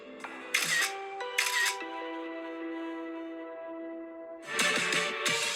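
Camera shutter sounds in a few quick clicking bursts during a selfie, close, over a sustained tonal hum.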